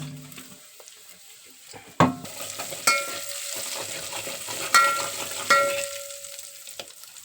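Red chili chutney sizzling steadily in hot oil, with a few sharp clatters of stirring or utensil knocks over the continuous frying hiss.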